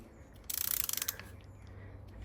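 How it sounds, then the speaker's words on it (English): A ratchet clicks in a quick burst of about a dozen sharp ticks as it turns to undo a car's oil filter, then soft mechanical handling follows in a quiet setting. "with a ratchet you can undo that filter"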